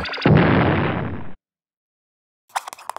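A loud, sustained blast-like roar of noise lasting about a second, cutting off abruptly into silence before faint voices begin.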